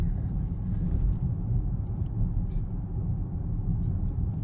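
Low, steady road rumble fills the cabin of a 2020 Volvo XC90 T6 R-Design AWD riding on 22-inch wheels, a continuous droning hum with small bumps from the road surface and no talking.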